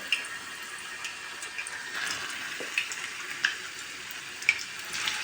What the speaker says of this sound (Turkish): kızartıyorum.